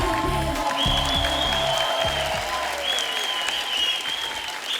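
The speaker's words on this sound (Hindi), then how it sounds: "मैं आप सबकी जोरदार तालियों के बीच इनवाइट करना चाहूंगा" Loud, sustained applause from an audience welcoming a guest onto a stage, with dense clapping over low rhythmic music and a whistle-like tone drifting above.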